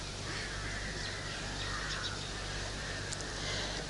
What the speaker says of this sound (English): that the crows should stop their noise.